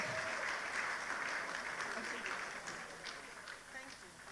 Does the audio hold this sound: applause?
yes